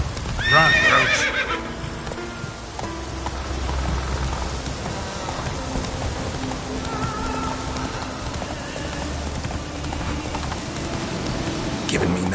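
Geralt's horse Roach in The Witcher 3 on PS5, hooves clip-clopping at a run with a whinny near the start, rain hissing throughout and a voice speaking briefly over the steady gallop.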